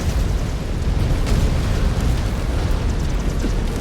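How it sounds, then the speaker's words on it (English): A mech's reactor breaches in MechWarrior 5 Clans, giving a loud, sustained roaring blast with dense rumbling crackle that holds without fading for the whole stretch. "Reactor breach. Explosion imminent."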